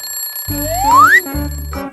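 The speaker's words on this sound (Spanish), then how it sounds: "el despertador sonó a todo volumen" Loud cartoon-style alarm clock ringing in bright bursts, with a rising whistle sweep over pulsing electronic rings that stop and start, close and alone.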